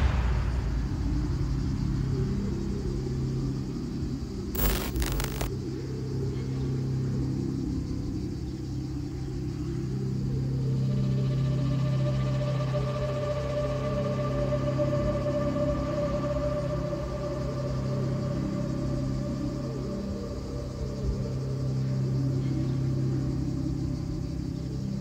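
A Lamera Cup race car on the Lédenon circuit produces a steady, loud engine rumble heard from inside the car for the full stretch, with the pitch rising and falling as it accelerates and a brief sharp click near the start.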